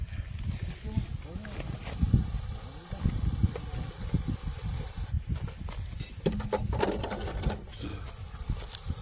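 A Russell's viper gives a sustained high hiss in breathy bursts like a pressure-cooker whistle, with a voice talking over it and rustling in the foreground.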